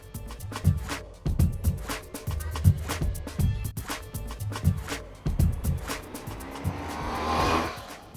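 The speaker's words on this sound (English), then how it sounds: "We're out on the Honda ST1300, or Pan-European if you want to use its European style logo." A Honda ST1300 Pan-European touring motorcycle, a heavy bike of about 330 kilos, rides along the road with a steady engine and wind roar that swells in repeated pulses and grows louder toward the end.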